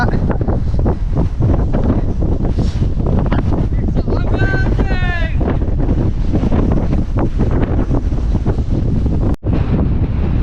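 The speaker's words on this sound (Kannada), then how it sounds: "ಗಾಳಿ ಸಿಕ್ಕಾಪಟ್ಟೆ ಗಾಳಿ ಬೀಳ್ತಾ ಇದೆ" Strong wind at a hilltop sunrise point buffets the microphone in a constant loud roar, with a voice calling out briefly beneath it.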